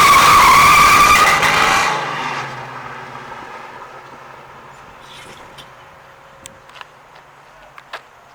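1969 Yenko Nova with an LS2 engine accelerating hard with a loud tire skid that fades out after about two seconds, leaving a low idle and a few faint clicks.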